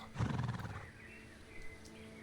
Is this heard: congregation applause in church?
no